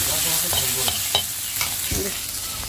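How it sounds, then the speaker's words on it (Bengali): Semai vermicelli frying in a pan, a steady close sizzle with scattered scraping stirs and clinks, and no talking. "ভালো করে ভেজে নিচ্ছি আমি"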